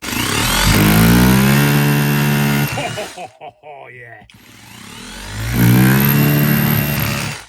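A loud cordless Ferrex 20V hammer drill with a blunt chisel roars against brick in two bursts with harmonic whine, separated by a quieter pause; a voice speaks briefly in the clip.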